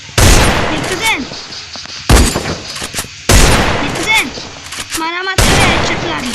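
Bursts of gunfire from a mobile shooting video game, with sharp rapid shots in four clustered volleys separated by short gaps, loud and close, while someone talks over them.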